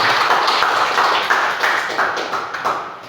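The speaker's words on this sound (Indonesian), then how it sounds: "Bisa kita beri aplaus untuk Ibu Riza atas paparannya." An audience at a seminar applauds a speaker after her presentation, with dense, sustained clapping from a roomful of people that slowly thins toward the end.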